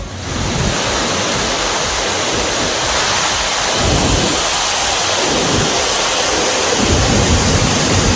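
Heavy rain pours steadily over Kodaikanal in a continuous dense roar, with deep rolling thunder swelling and fading several times beneath it, no voices.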